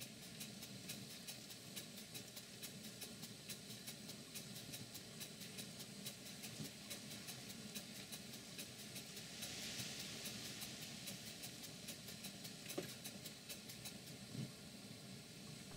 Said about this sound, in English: I'll just stop talking so you can listen to the engine.